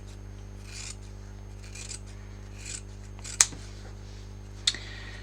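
Scissors snip and notch fabric or paper for a Christmas tree decoration, with soft rubbing cuts and two sharp, close clicks over a steady low hum.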